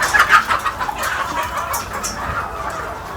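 Hens cluck busily and a rooster is among them, with overlapping calls close by as someone tries to catch the rooster with a box; no one speaks.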